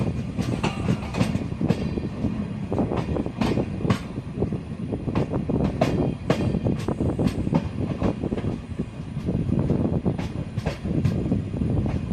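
Amrit Bharat Express passenger train running on rails, a steady loud rumble with repeated clickety-clack wheel beats over rail joints and a faint squeal, continuous and close throughout.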